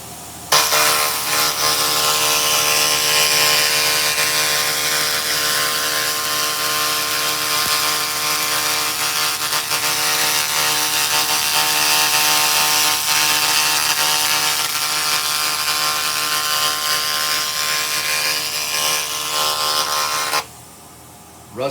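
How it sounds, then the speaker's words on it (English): A 2000 watt laser cleaner blasts rust off a heavily rusted steel I-beam with a loud, constant hissing roar and a steady hum that runs for about twenty seconds, then cuts out briefly before resuming. "Okay, this is the 2000 watt laser."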